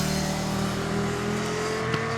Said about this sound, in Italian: e delle moto che vengono su